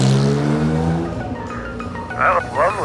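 Acura ARX-05 prototype race car engine idling then revving as it pulls away, close and loud with harmonic engine tones, with voices talking over it.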